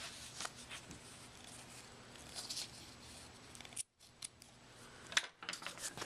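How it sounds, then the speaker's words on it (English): Scissors snipping excess ribbon on a wrapped holiday present, several quiet close crisp cuts in a near-silent room, with one brief fully silent gap. "Here, just snip it. I always cut away the excess."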